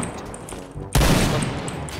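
A single loud AWP sniper rifle shot in the video game Point Blank, landing as a headshot, bursts in sharply after a quieter stretch and is followed by a lingering rumble and game noise.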